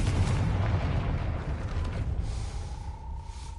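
An explosive spell detonates in Hogwarts Legacy, a deep booming blast followed by rumbling, creaking debris and a faint lingering tone as it dies away.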